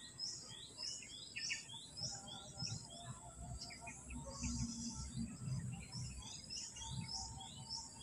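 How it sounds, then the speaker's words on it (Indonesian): Many birds chirp and tweet outdoors at a riverside fishing spot, with repeated high calls from several directions over a soft insect buzz and low rustling, moderately faint and without speech. "Sini banyak burung."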